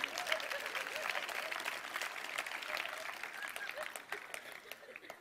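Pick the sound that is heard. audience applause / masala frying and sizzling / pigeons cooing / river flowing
audience applause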